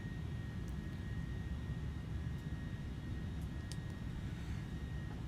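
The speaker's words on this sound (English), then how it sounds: "This is us now actually flying the plane" Airbus airliner engine in Microsoft Flight Simulator, a steady, loud broadband jet roar with a faint high whine held throughout, with no voices.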